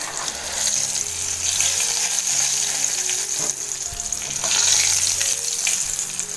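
Green chillies roasting crisp in a hot pan, a loud continuous sizzle and hiss with occasional clinks of stirring, close up and without talk.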